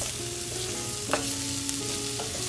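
Stuffing ingredients stirred in a hot pan, a continuous bright sizzle with a couple of faint scraping knocks as the mix is moved, close and steady without speech.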